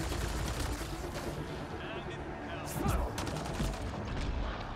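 Steady sci-fi weapon fire from a firefight in Mass Effect: Andromeda, with bursts of shots and booms layered over each other throughout, and a player talking over the combat.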